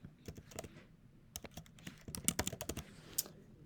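Sample employee's email and password typed on a computer keyboard at a time-clock kiosk: a run of quick, close, uneven key clicks, with short pauses and denser bursts near the end, and no voices.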